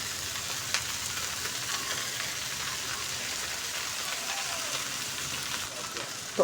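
Okra and tomato frying together in a pan while being stirred and mixed: a soft, even sizzle like light rain continues throughout, with a couple of faint knocks from the utensil.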